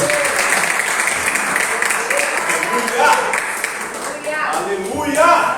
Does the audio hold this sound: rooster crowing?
no